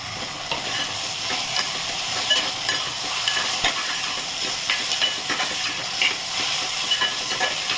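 Chopped onion and tomato sauté in hot oil in a pan for a dry matki (moth bean) bhaji, giving a steady close sizzle with scattered stirring scrapes and crackles throughout.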